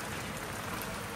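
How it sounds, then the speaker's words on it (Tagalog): Steady rain falling in Bali, a dense close hiss of drops on surfaces, even and unbroken for the short stretch with no talk. "Ulan!"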